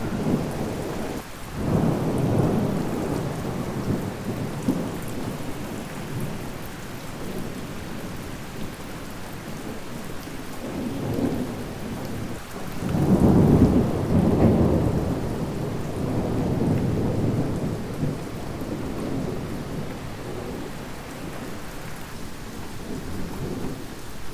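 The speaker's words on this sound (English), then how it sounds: "Still hear that thunder rumbling." Low thunder rumbles and swells in the distance over a steady wash of falling rain, peaking in a deeper roll partway through.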